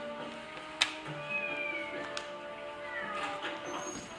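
Cat meowing inside a fishing video game, a few short mews over a steady game music bed with a soft clicky accent near the start, fairly close and clear.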